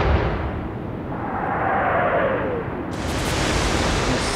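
Naval gunfire in the Atlantic Fleet game, a broad heavy rumble that swells and fades like a distant shell blast, with a sharp hiss of noise cutting in near the end; no talking.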